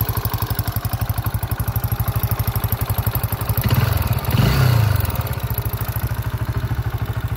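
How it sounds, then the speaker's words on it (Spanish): A motorcycle engine making an abnormal noise idles with a rough, pulsing rhythm, briefly revving and clattering in the middle before settling back to its uneven idle, in Catamarca, Argentina. "Está haciendo un ruido raro el motor."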